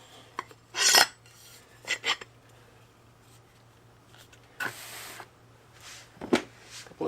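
A few sharp metallic taps as an axe head is knocked down onto the handle of a CRKT Hammer Chogan, scattered bursts with quiet gaps between them, close and fairly loud.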